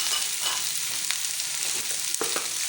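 Onions fry in hot oil for bhindi pyaz masala, a close steady sizzle with a few light stirring scrapes.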